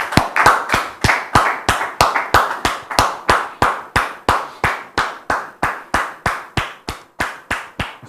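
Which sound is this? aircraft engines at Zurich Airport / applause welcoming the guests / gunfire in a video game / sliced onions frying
applause welcoming the guests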